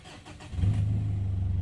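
A BMW car engine cranks and catches about halfway through, then settles into a steady, close, low idle rumble.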